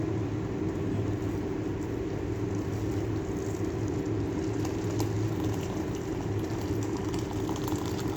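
Hot water pours steadily over four tea bags in a container, a continuous soft rushing fill heard close but faint, with no talk.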